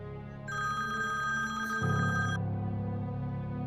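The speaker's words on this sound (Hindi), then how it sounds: "हैदर का फोन आ रहा है, उठा लो, बात कर लो उससे।" A phone rings with a steady electronic tone, loud and continuous for a couple of seconds, with a low hum underneath and no talking.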